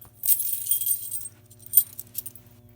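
A ring of metal keys jangles nearby in bursts as they are pulled out by hand, with a low electrical hum from fire-alarm panel equipment underneath.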